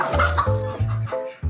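Several short, low clucks from a chicken, repeating in an uneven rhythm, close by and fairly loud.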